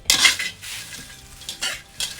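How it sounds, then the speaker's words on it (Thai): Dry chili being roasted in a wok, with a metal utensil scraping and stirring and the pan tossed, giving several loud bursts of rattling, sizzling clatter with brief pauses between them. "คั่วไปเรื่อยๆนะฮะทำให้มัน เข้ากันได้ดียิ่งขึ้นก็พลิกกระทะแบบนี้"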